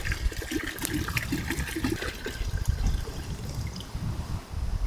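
Fresh spring water pours and splashes steadily into a cooking pot at an outdoor beach cookout in Kingston, Jamaica, a continuous close gurgling and trickling that lasts throughout.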